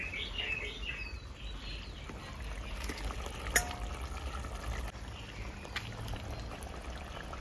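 Fried fish goes into a curry sizzling in a pan for a village-style fish jhal, a steady close frying hiss with a few stirring clinks, while birds chirp faintly outdoors and nobody talks.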